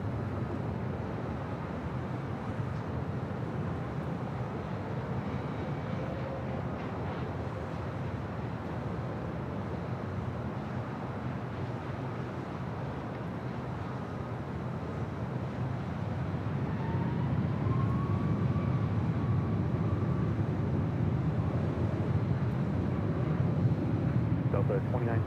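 Copa Airlines Boeing 737 MAX 9 taking off from runway 24 left at LAX, a steady broad jet roar heard from a distance that swells louder toward the end, with radio chatter and talk over it.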